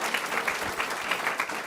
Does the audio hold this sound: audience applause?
yes